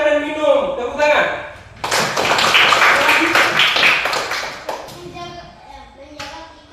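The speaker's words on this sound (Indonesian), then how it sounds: "Tepuk tangan." A classroom of students clapping hands together during a lesson, a dense burst of claps lasting a few seconds between stretches of a teacher and children talking.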